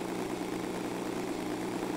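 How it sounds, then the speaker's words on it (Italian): Steady low engine drone of a motorcycle in the video game PUBG, idling or cruising at an even pitch, continuous and fairly faint. "C'è un veicolo dietro di noi. È un'altra moto"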